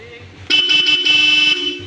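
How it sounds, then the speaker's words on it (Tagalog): A car horn on a Mirage G4 GLX CVT sounds close and loud, in one sustained blast of a bit over a second with a brief stutter, preceded by quiet idling. "Busina check."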